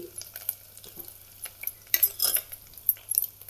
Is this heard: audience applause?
no